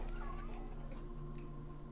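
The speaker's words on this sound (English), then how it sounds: "Alright, this is the place with all the cats." A cat in The Witcher 3 video game gives a soft, brief meow near the start, faint over a steady low hum, with no voices.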